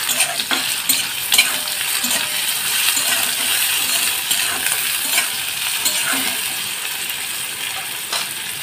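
Onion and chopped tomato fry in a pan with a steady, close sizzle, broken by frequent light scrapes and clinks of a spoon stirring against the metal throughout.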